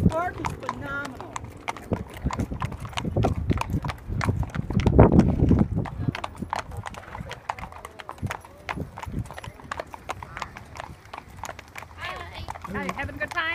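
Horse hooves clip-clop steadily along a park trail on a stable's guided ride, a continuous walking rhythm close by with occasional louder stretches, while riders talk over it.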